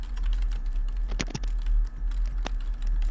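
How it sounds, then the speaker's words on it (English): Typing on a computer keyboard, a quick run of soft clicks with a few louder key strikes, close and alone over a low steady hum. "He's typing."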